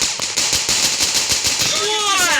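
AK-47 automatic rifle fire in a video game: a rapid, evenly spaced burst of sharp shots running through the whole stretch, loud and close, with a voice-like tone rising near the end.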